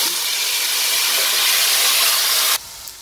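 A spice paste for egg and potato curry hits hot oil with a loud, steady hissing sizzle that runs for a few seconds and then drops away abruptly.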